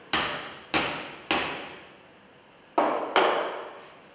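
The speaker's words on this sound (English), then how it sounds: "And then hammer the swedging tool into the copper tubing." Five sharp metallic hammer strikes drive a swaging tool into copper tubing close by, each one fading over about half a second, three in quick succession and then two more after a pause.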